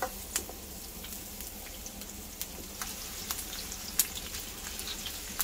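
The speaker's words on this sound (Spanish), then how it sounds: "vamos a agregarla y vamos a agregar los chiles también para darles una freída aquí." Chopped onion and chiles fry in a pan, a soft, steady sizzle broken by sharp pops and crackles scattered throughout, close by and with no one speaking.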